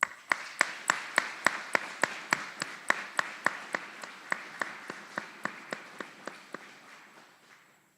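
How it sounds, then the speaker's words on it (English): Slow, evenly spaced claps ring out in a large hall at an Army graduation honoring drill sergeants and instructors, about twenty sharp, echoing hits that gradually soften and fade over several seconds. "Please join us in giving a round of applause to these outstanding drill sergeants and instructors"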